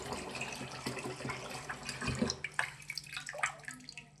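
Water pours into a cooking pot for rice, a close, moderately quiet splashing gush that rises in pitch and grows more uneven as the pot fills.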